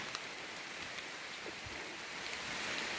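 Steady rain falls on a wooded mountain trail during a typhoon-season mushroom hike, an even soft hiss with occasional drips, no voices.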